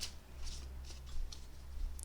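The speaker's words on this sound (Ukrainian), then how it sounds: "Будь ласка, карти покажіть мені то." Soft, quick rustling and flicking of tarot cards being shuffled, a few brief bursts over a low steady hum, fairly quiet and close.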